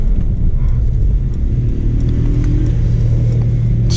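Mercedes CLS53 AMG straight-six engine rumbling steadily inside a tunnel, a loud close low drone with a slight rise in pitch as it shifts down a gear, no voices.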